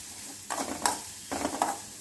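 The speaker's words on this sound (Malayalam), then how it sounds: "ഇനി ബാലൻസ് നമ്മുടെ നാളികേരം അതിനകത്തേക്ക് ഇട്ട് കൊടുക്കുവാണ്. നല്ലതുപോലെ ഒന്ന് മിക്സ് ചെയ്യാം." Two short scraping strokes of a spoon mixing pancake batter with coconut in a bowl, close and moderately loud with quiet pauses between them.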